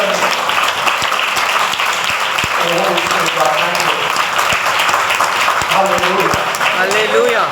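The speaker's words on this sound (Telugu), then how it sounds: "అర్థమైన వాళ్ళని గట్టిగా చప్పట్లు ఇచ్చాను" A church congregation claps loudly and steadily during a Sunday sermon, a dense ongoing applause with a voice speaking over it.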